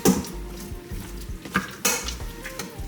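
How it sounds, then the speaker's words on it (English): Oxtail with homemade seasoning being stirred in a pot: scraping spoon strokes and clanks of metal against the pot, with a light sizzle beneath, close up. "And then I'm going to stir it up a little bit."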